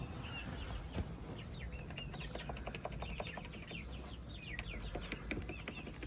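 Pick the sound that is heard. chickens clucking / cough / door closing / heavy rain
chickens clucking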